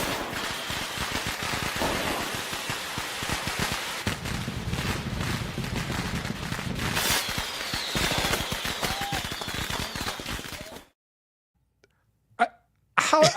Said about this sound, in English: he lit off firecrackers in his parents' bedroom in the middle of the night